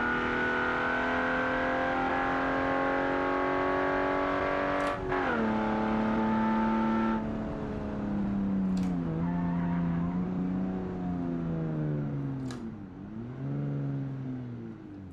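Car in a quarter mile drag race accelerating hard, engine pitch climbing steadily then dropping sharply at each of three gear changes near 6,000 RPM, loud and close with no talk.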